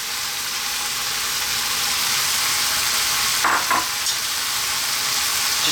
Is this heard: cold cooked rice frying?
yes